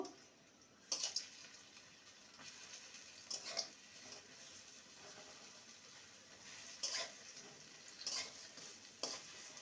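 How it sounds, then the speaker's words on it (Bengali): Bitter gourd and red lentil fritters fry in hot oil with a soft, constant sizzle. Several sharp scraping clicks break through as the fritters are turned over one by one, and no one speaks. "এক দিকটা ভাজা হলে অপর দিকটা উল্টে দেব এবারে এগুলোকে উল্টে দেব"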